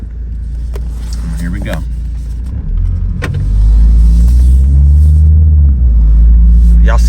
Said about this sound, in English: hear that, y'all? Smooth transmission shift.